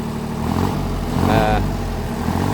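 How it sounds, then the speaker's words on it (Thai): Rural farm tractor engine with a charging fault runs at a steady close idle, a low rumbling throb with a brief rise in pitch midway, while someone talks over it. "มาซ่อมอเครื่องรถไถเนี่ยครับ"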